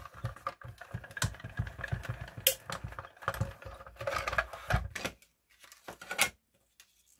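A hand-cranked die cutting machine feeds card, die, cardboard and cutting plate through its rollers, giving irregular crunching, clicking and grinding bursts that stop briefly near the end, moderately quiet and close.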